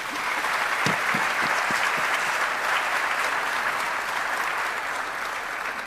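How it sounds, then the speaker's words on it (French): Steady, full applause from a crowd honoring the prime minister of the Democratic Republic of the Congo, dense clapping held at an even level with a few closer, sharper claps near the start and no talk. "Je pense qu'elle mérite des applaudissements."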